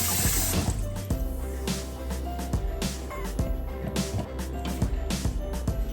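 Tap water runs into a kitchen sink while carrots are washed by hand. A close, steady rush of water goes on with irregular splashes and light clunks, and no talk.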